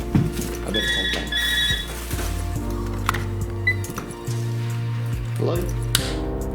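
A telephone rings loudly in a home, with bright repeated bell-like trills in short bursts over a noisy background of steady tones and clatter.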